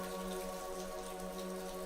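Rain falling in a park makes a steady, even patter that runs unbroken throughout, with soft tonal layers beneath and no voices.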